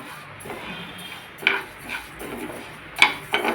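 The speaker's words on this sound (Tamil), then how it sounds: "சிறுபருப்பை போட்டு வறுத்துக்கலாம்." Split moong dal dry-roasted without oil in a pan, heard as soft scraping and stirring with a few sharper clinks of a utensil against the pan, close up and fairly quiet.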